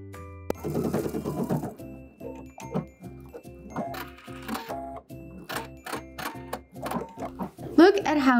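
A sewing machine top stitches the folded edge around the armhole of an upcycled vintage leather coat, running in short repeated bursts with pauses while the piece is turned, and a brief voice near the end.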